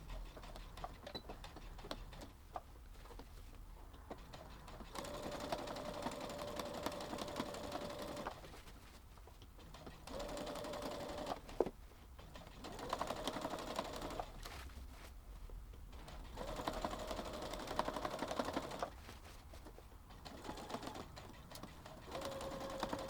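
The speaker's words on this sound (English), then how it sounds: "the final step we have is to do a top stitch across the top of the bag to finish it off." Sewing machine running a top stitch across the top edge of a tote bag, steady mechanical whirring in long bursts separated by brief pauses, fairly quiet and close.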